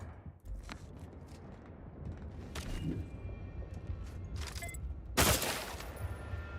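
Several gunshots fired at lights in Outer Worlds 2, sharp cracks spaced irregularly over a low background rumble, the loudest and broadest blast near the end, no voices over them.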